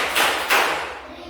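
Two quick hand claps in a counted clapping game among teachers, close and fairly loud, spaced about a third of a second apart.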